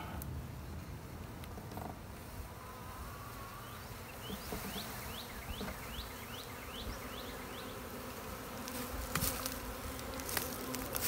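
Italian honey bees buzz in a dense, steady drone close by while a package is being installed, with a series of brief rising whines from single bees passing near, no voices.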